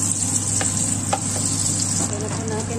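Butter sizzling in hot oil in a pan after pork ribs were fried, a loud, steady close hiss with a few faint clicks underneath.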